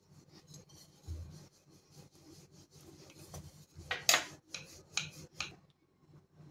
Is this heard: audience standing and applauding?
no